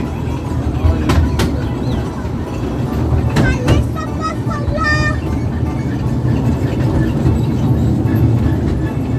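A train ride at Dreamworld amusement park rolls past with a continuous loud rumble and rattling, a few sharp clanks and squeals, and people talking over it.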